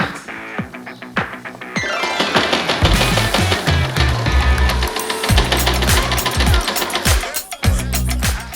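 A sewing machine stitching a strip of espadrille material runs in fast, loud mechanical bursts with a rhythmic hammering clatter, stopping and starting a few times, heard alone.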